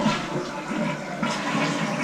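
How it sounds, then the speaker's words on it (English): A Gerber elongated comfort-height toilet flushes close by, a loud, steady rush of swirling water that carries on through the whole moment with no voices. "The best part of this toilet, you flush it and bang!"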